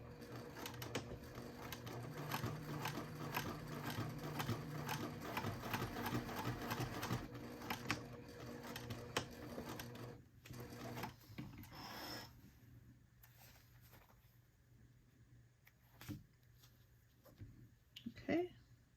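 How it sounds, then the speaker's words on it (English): A sewing machine stitching a line across a fabric wristlet, a fast, even whirring rattle of the needle that runs for about ten seconds, then stops, leaving only brief scattered handling sounds. "so stitching across that line again"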